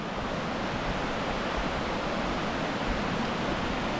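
Rushing river in Webster Springs, West Virginia, swollen after spring rains, a steady broadband roar of water that holds evenly and fairly loud throughout, with no voices.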